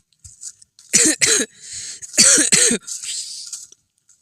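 Several harsh coughs close to the microphone, coming in two quick pairs with brief pauses, followed by a rougher, drawn-out throaty cough.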